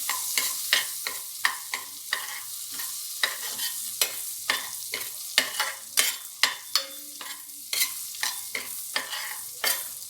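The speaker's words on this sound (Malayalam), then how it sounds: "ഇനി അതിലേക്ക് നമുക്ക് നമ്മളെടുത്ത് വെച്ചിരിക്കുന്ന പച്ചമുളക് കീറിയത് ഇട്ട് ഒന്ന് ഇളക്കി കൊടുക്കാം" Slit green chillies sizzling in melted butter for butter chicken while a spoon stirs them, so sharp scraping strokes come in an irregular run over a continuous hiss, close up and with no talk.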